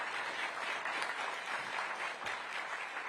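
Sustained audience applause for an at-large Councilmember at a Commuter Connections 50th anniversary event, a dense, even wash of many hands clapping at steady loudness throughout.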